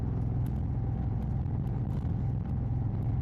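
A motorcycle engine runs at 3:30 in the morning with a steady, continuous low rumble at even loudness throughout, with no voices over it.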